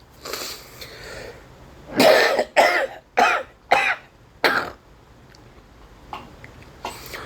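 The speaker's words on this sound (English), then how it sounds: "It's hard to talk because I can't stop coughing." A person coughs in a burst of five or six harsh, close coughs, preceded by a faint breathy rasp and followed by quieter throat sounds.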